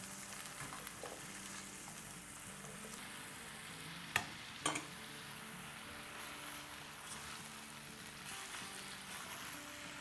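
Minced meat (keema) fries on high heat in a pan with a steady, quiet sizzle throughout, broken by a couple of sharp stirring clinks near the middle.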